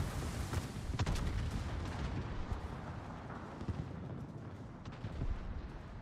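Shell impacts and heavy naval gunfire boom through a World of Warships battleship battle, a shell glancing off a ship's armor amid a dense, continuous barrage of booms and cracks.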